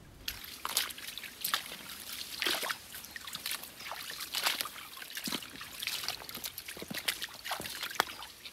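Water trickles and splashes in a shallow stream as a dog walks upstream, with soft irregular sloshing steps, faint and near.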